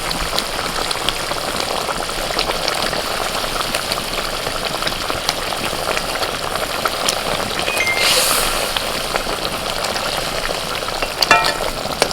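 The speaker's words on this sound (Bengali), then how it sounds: "মশলাটা ফুটছে ভাজা পাঁপড়গুলো দিয়ে দিচ্ছি" Fried papad pieces drop into bubbling masala gravy, giving a steady, dense sizzle and bubbling throughout, with a few brief clinks and scrapes of stirring near the end.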